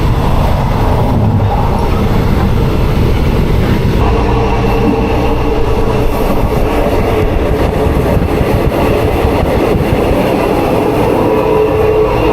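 An express train in Thailand rumbles steadily along the rails, a loud continuous roar with rattling and clatter throughout, no voices.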